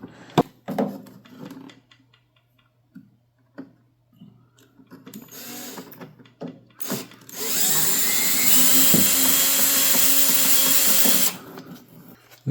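A power drill backs screws out of a 1965 Fender Bassman amplifier head. Scattered clicks and handling noises come first, then the drill whirs loudly and continuously for several seconds, close by and without talk.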